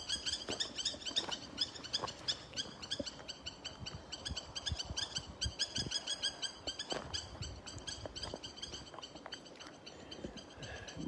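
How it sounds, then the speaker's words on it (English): Small birds outdoors give rapid, repeated high chirps and scolding calls in quick clusters, fairly close and persistent over a faint background rustle. "These birds are so annoyed that"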